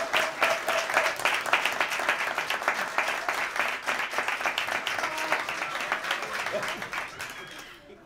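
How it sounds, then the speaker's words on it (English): Theatre audience applauding after a holiday radio play performance, a dense, steady wash of many hands clapping at close range, sustained for several seconds before tapering off at the end. "please give a big round of applause to Oliver Graff,"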